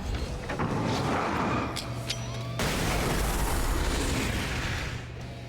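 A flashbang goes off in Alan Wake's American Nightmare, a loud broadband blast with a sharp second burst midway, set in continuous dense roar and rumble of game noise throughout.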